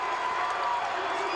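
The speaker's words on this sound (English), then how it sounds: "The throw down by Matt Berry, and now the crowd's into it" Basketball crowd at an Indiana State vs SIU game on Indiana State's senior night in Terre Haute: a steady, dense roar of cheering fans with mixed applause.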